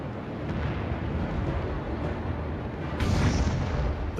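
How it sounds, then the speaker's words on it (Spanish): The Bismarck's 340 mm guns firing at the Hood from almost 16 km, heard as a dense, continuous low rumble with a heavier blast-like surge near the end and no clear separate shots. "los enormes cañones de 340 milímetros del Bismarck disparándole al Hood"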